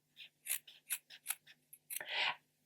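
Close, quiet scissors trim fabric seam allowances in a run of about a dozen short, separate snips, ending in one longer cut.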